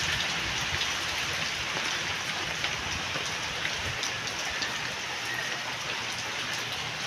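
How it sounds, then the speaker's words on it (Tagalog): Heavy rain pours steadily on a house during a windy downpour, a dense, unbroken hiss with scattered drop patter, continuous and moderately loud with no voices. "Tingnan niyo po, oh, lakas ng ulan."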